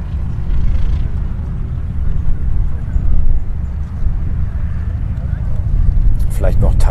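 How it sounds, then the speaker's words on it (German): Steady low rumble of aircraft engines arriving at an airfield during an air show, with wind noise, a continuous broad roar, plus brief voices near the end. "Oh, jetzt kommen aber einige Flugzeuge hier rein."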